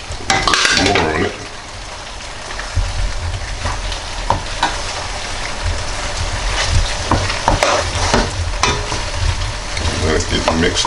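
Macaroni with three melting cheeses is stirred and folded in a pan, giving a continuous close sizzle. A utensil scrapes and clinks against the pan in irregular strokes throughout.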